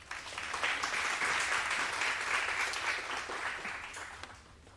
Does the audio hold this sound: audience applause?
yes